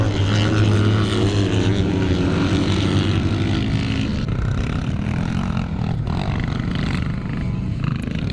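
A CZ 360 motocross motorcycle races past during a classic motocross race at Strathaven, Scotland, its loud engine roaring throughout and shifting pitch around midway as it passes close by.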